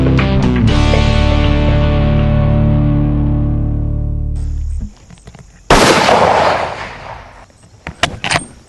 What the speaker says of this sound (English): So take the first shot at 100, raise the scope up, use the second aiming point, shoot at 200